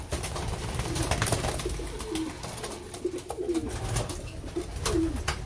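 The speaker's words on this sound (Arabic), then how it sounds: "من هنا كنترقبوا نشوفوا الاحوال ديال الحمام كي داير" Pigeons cooing nearby, several soft repeated coos overlapping in a steady throaty rhythm over a low rumble of background noise.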